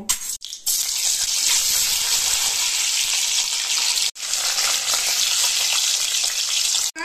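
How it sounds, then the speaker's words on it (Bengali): Pre-boiled eggs fry in hot oil in a wok with a loud, continuous hiss and crackle that cuts out sharply three times, briefly near the start, around the middle and at the very end. "এবার আমি তেলের মধ্যে ডিমগুলো যে আগে থেকে সিদ্ধ করে রেখেছিলাম সেইগুলো প্রথমে ভেজে নেব।"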